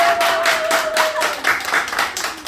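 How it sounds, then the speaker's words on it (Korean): Audience clapping after a Korean happiness lecture, a scattered run of handclaps filling the room at moderate volume, with a brief tone sustained beneath the first half. "박수 쳐주세요"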